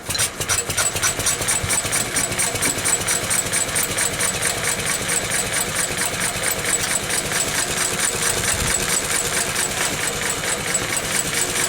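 A Lister engine runs at a fast, steady idle, its even mechanical clatter and vibration continuing without a break at close range.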